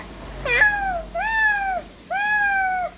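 A voice imitates a cat, giving three drawn-out meows, the first short and high, the next two longer and steadier, close and clear.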